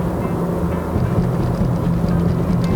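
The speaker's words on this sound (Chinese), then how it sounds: "那个 inline six 的声音，微微的听到那种若隐若现那种声音" A BMW E90 325i Sport LCI with its inline-six engine being driven: a steady, loud, low rumble of engine and road noise from inside the cabin, continuous and without talking.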